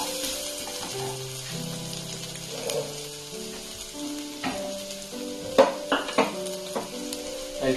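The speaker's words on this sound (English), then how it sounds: "Now add the salt that is required for this recipe and let the onions caramelize a little" Onions with salt sizzle gently in a pan as they caramelize for a broccoli and green pea brown pulav. The frying is soft and low, with occasional sharper clinks and scrapes of stirring toward the end.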